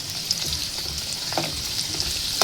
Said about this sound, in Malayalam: അപ്പോൾ നമുക്ക് മുന്തിരിങ്ങ ഇട്ട് കൊടുക്കാം.